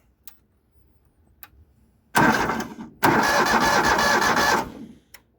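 Vehicle engine from a farm auction cranking without fuel, two bursts of loud starter whirring, the second longer, that never catch, with faint ticks before and after.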